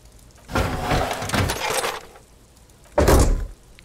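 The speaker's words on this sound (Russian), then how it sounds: "Ты закрываешь ржавую дверь старого грузовика." Rusty door of an old truck in Disco Elysium swinging and slamming shut: a scraping, rattling movement lasting over a second, then a loud, solid metallic thunk a moment later, close by with no talk.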